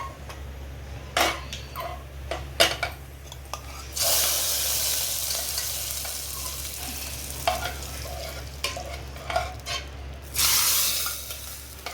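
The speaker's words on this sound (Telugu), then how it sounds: "పప్పులో వేసుకుందామండి." Hot oil tempering of cumin, garlic, dried red chillies, mustard seeds, curry leaves and coriander poured into fenugreek-leaf dal, giving loud sizzling bursts that swell and fade over a steady hum, with scattered clinks and no talk.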